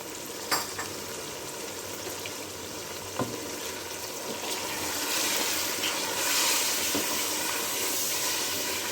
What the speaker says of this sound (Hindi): जब तक दही का पानी खत्म नहीं होता है मैं इसको भूनूंगी